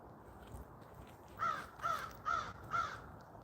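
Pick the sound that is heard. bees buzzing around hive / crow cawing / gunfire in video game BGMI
crow cawing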